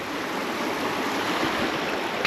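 A river flows at a ford on the Appalachian Trail in Maine, a steady, dense rush of water that holds even and continuous throughout, fairly close, with no voices over it.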